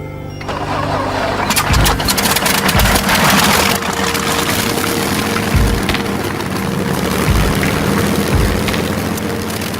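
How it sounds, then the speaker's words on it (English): A Rolls-Royce Merlin piston aircraft engine, the type that powered Spitfires and Hurricanes, roars loudly and close, with a rough, crackling throb and repeated low pulses over its continuous run. "This is the legendary Rolls-Royce Merlin engine that powered the Spitfires and Hurricanes in the Battle of Britain"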